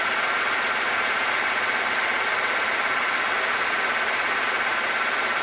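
A 1996 Ford F150 engine idles loud and steady with the number 1 cylinder misfiring, a constant droning rumble with a faint uneven stumble and no voices over it.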